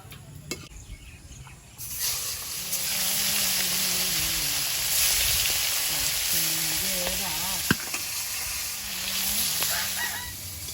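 Lata fish sizzling steadily in hot oil, a constant crackling hiss close by, with a rooster crowing faintly in the background.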